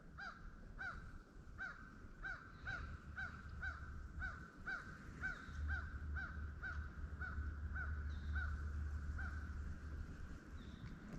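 Crows cawing beside a lake during winter fishing, a long regular series of harsh caws repeating about twice a second over low rumbling wind and ambient noise.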